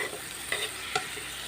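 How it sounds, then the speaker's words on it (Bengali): Tomatoes and garlic fry in a pan with a continuous sizzle while a spoon stirs them, giving a couple of brief scraping knocks, close and moderately loud with no talk. "টমেটোটা দিয়ে যে ভেজে একটু নেড়ে নিচ্ছি।"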